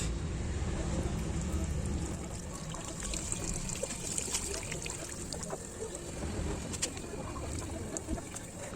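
Liquid trickles and splashes steadily as battery acid is drained and poured out of a weak car battery, a continuous close pouring sound with small drips and no talking.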